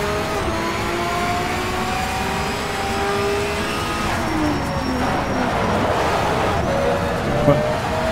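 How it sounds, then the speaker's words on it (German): A Pagani Zonda R races in Need for Speed: Shift, its engine a loud, steady drone whose pitch rises and falls through the shifts, easing off as the car brakes, with game traffic noise around it. "Ihr könnt ja hören, wann ich bremse. Ich bremse schon relativ spät und das ist eigentlich immer noch zu früh."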